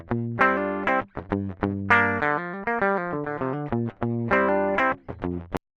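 A clean, direct-input electric guitar with no amp or effects plays a quick melodic line of plucked single notes and short phrases, bright and dry, ending abruptly.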